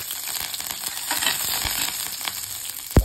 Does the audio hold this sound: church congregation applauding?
no